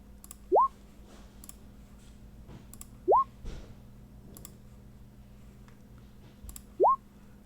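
Soft mouse clicks on characters during a Dungeons & Dragons 5e session on a virtual tabletop, spaced a few seconds apart. Three short rising chirps sound among the clicks over a faint, steady room hum, with no talking.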